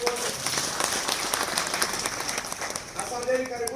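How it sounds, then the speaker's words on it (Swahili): A church congregation applauds at a Christmas service at an African Israel Nineveh Church, a steady patter of many hands clapping throughout while a voice talks over it. "Tuwapigie makofi hao watu wote."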